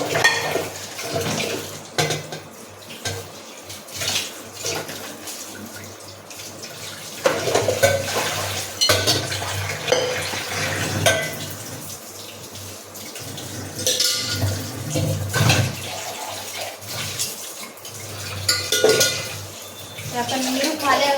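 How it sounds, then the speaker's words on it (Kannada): Dishes and pots being scrubbed and rinsed by hand during rain, with clattering metal, splashing water and a running tap in irregular bursts, and occasional speech in the background. "ಬಾಂಡೆ ಎಲ್ಲ ಬಾಂಡೆ ತೊಳಿಬೇಕು."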